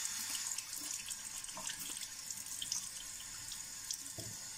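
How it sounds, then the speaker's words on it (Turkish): Running tap water splashing into a kitchen sink while hands are washed, a steady close rush with faint drips and no talking. "Elimi yıkayayım."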